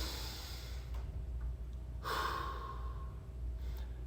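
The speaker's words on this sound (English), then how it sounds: "Take big breaths in through my nose, out my mouth" Heavy breathing during a rest break in a kettlebell workout, drawing air in through the nose and pushing it out through the mouth; soft, close, and steady, with one stronger exhale in the middle.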